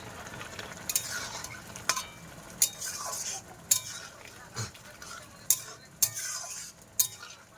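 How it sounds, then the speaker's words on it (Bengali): Spice paste stirred into a simmering vegetable curry in a pan, with regular scraping strokes of a metal spoon roughly once a second over a continuous soft sizzle, close and fairly loud. "এখন এই মশলাটা আমি তরকারির মধ্যে দেব"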